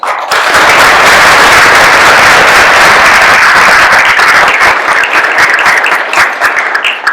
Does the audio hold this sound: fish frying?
no